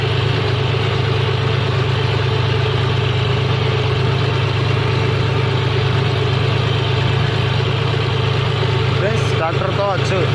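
A tractor engine runs in a field while ridging furrows, a loud, steady low drone close by for the whole stretch. A faint brief sound breaks in near the end.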